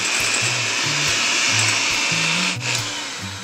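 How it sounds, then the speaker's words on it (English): Electric hand mixer whirring steadily as it whips egg whites with added sugar, a loud continuous motor drone with faint beater rattles, briefly dipping near the end. "we're just gonna add a little bit at a time and keep whipping up the egg whites"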